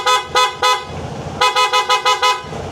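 A KYMCO AK550 Premium motorcycle's PIAA horn honks in short bursts: three quick beeps, a pause, then five more in a rapid run, loud and close over a low engine rumble.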